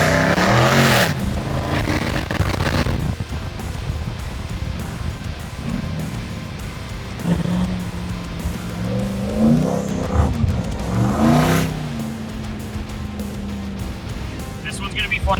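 A twin turbo supercharged Ram truck fitted with 3,000 cc injectors runs loud and close. Turbo and supercharger whine rises and falls in sweeping pitches over a rough engine roar, with someone talking over it.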